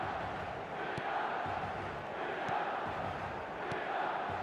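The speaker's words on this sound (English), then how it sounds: "Red and black wherever you turn, the San Siro is buzzing." Dense, steady crowd murmur filling the San Siro stadium before a football match, a broad buzz of many voices with no sharp peaks, heard from a distance.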